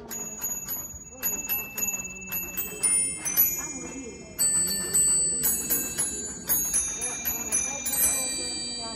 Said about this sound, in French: j'ai un petit marteau qui vient percuter la petite clochette en bronze